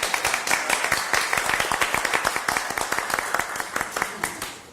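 An audience at a city commission meeting breaks into a round of clapping. Brisk, crisp hand claps come fairly close and stay steady, then thin out and fade near the end.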